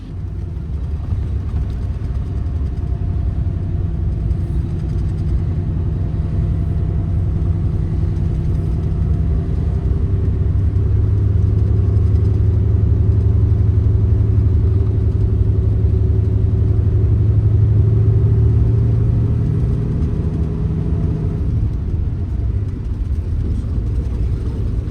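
Highway bus cruising on the Tohoku Expressway toward Sendai, a loud, steady low engine and road rumble filling the cabin throughout, with no one talking.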